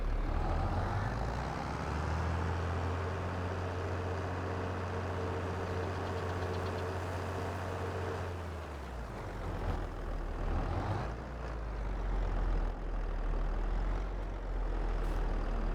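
A Belarus tractor engine idles in Farming Simulator 22, a loud, steady low rumble that drops in tone midway, then settles back into an even drone with no talk.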